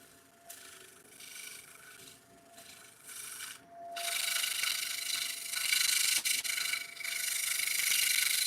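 A wood finish is burnished by hand, giving rasping rubbing strokes that start as short, uneven passes and then become a louder, steadier scrubbing for the second half, with no voices.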